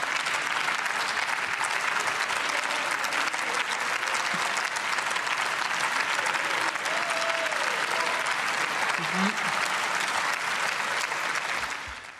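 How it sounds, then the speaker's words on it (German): Sustained applause fills the Bundestag chamber in Berlin as parliament nears a vote on skilled-worker immigration, a dense, steady wash of many hands clapping at even loudness before fading slightly at the very end. "Jetzt fängt die AfD selber an mitzuklatschen."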